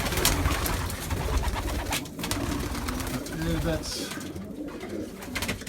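Fancy pigeons cooing steadily in a loft, a soft continuous murmur of several birds close by, with someone speaking briefly over them.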